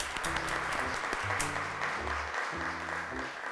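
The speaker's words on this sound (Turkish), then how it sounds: "Zeynep Serra'yı alkışlarla çağırıyoruz." Applause fills a studio as a child contestant is called up on a Turkish children's game show, steady clapping throughout with faint background music.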